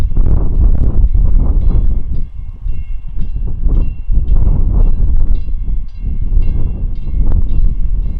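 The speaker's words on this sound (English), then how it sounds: "this random train we absolutely were not expecting came through" A train rumbles through a South Side Chicago station nearby with a heavy, continuous low roar, wheels clattering in waves, and faint high tones ringing above the noise.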